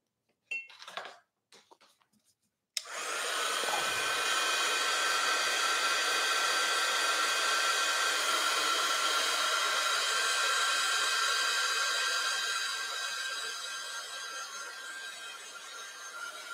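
A dryer switches on abruptly after a few faint clicks and runs as a steady, loud, close whooshing whine, drying wet cobalt paint on an artwork; no talking is heard.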